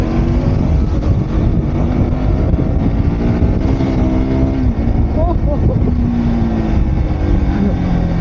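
A 2025 KTM RC 200 motorcycle is ridden at speed, its engine tone climbing gradually under heavy wind rush, while a rider talks over the roar.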